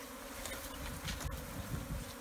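Continuous buzzing of a large swarm of African killer bees at a tree hive in Tanzania, thick and unbroken, heard close up with a low rumbling undertone.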